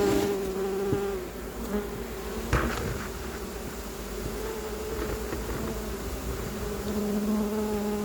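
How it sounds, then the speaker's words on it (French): Small package of honeybees with a queen, buzzing as a swarm in a continuous droning hum with shifting pitches, close and steady throughout, with no voices. "j'ai une tout petit paquet d'abeilles avec une reine"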